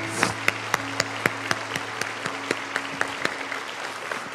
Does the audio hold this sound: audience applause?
yes